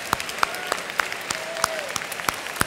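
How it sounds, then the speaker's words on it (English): A luncheon fundraiser crowd applauds the table captains with steady clapping. Sharp individual claps stand out close by, and a few faint whoops rise over the applause. "Let's hear a round of applause for the table captains."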